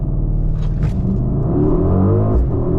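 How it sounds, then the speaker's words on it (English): A 2023 Mercedes-Benz GLE 63 S AMG Coupé heard from inside as it launches, its engine a deep, loud, continuous rumble that rises and strains in pitch as the car accelerates hard. "then I will do a launch control of this GLE63s AMG"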